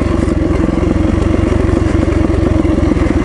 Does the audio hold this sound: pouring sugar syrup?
no